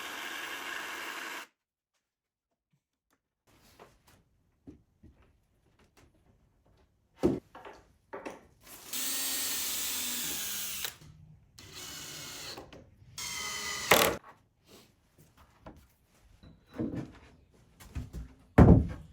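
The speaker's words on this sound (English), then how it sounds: "Then I can start gluing and screwing these cabinets together." Intermittent workshop noises while gluing and screwing wooden campervan cabinets together: a screw gun whirring in short bursts, clicks and thunks of parts being set together, with quiet pauses between.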